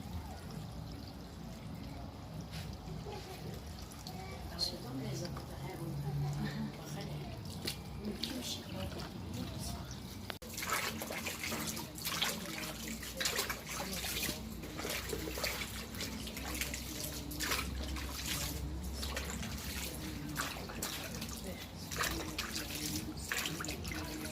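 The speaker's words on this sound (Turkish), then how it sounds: "Böyle leğenlerle koyup yıkayacağız." Bell peppers being washed by hand in large basins of water while making pepper paste, with continuous splashing, pouring and dripping throughout, and people talking nearby.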